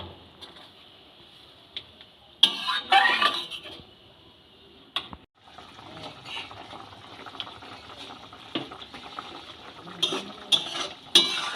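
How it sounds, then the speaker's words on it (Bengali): Mustard paste being stirred into green tomatoes in a pan, with scraping and clattering utensil strokes in bursts around 2.5 to 3.5 seconds and again near 10 seconds over a soft bubbling simmer. "টমেটোর সাথে সর্ষে বাটাটাকে মিশিয়ে দিলাম এবার ভালো করে নেড়ে নেবো"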